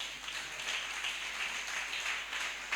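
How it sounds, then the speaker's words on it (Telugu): A congregation at a church festival gathering applauds, making a faint, continuous wash of clapping that holds steady throughout. "గట్టిగా చప్పట్లు కొట్టండి అమ్మా"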